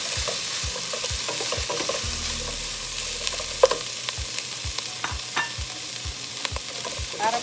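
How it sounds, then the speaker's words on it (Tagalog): Pork pieces sizzling in a pan for Kapampangan menudo while a utensil stirs and scrapes them in a steady rhythm of sharp clicks over the frying hiss. "Ngayon po na pan-fry na natin yung ating meat."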